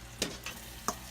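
Butter bubbling in a pot for Persian rice, a soft continuous sizzle broken by a few sharp clicks and pops, close and fairly quiet.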